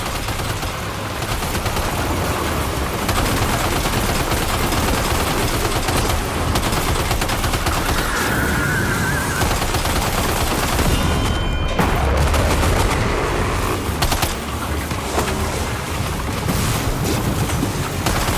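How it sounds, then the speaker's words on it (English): Sustained automatic gunfire in Death Stranding 2 rattles loudly and continuously for many seconds, with dense volleys over a roaring wash of background noise. "Opening fire now."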